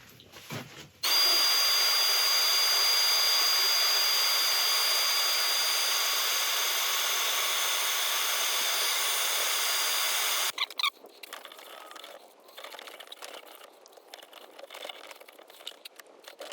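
Sandpaper against a spinning oak burl box on a wood lathe, a loud steady broadband hiss starting abruptly and running about nine seconds before cutting off, followed by quieter handling noises.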